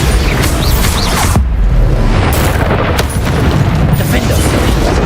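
A Bombarda blasting spell explodes in Hogwarts Legacy amid a loud, continuous wash of booming impacts and crashing debris. Dense combat noise surrounds it, with a voice talking briefly underneath.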